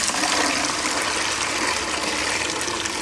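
Water draining from a basin at the equator, a loud continuous rushing gush with a steady, broad hiss that holds evenly throughout.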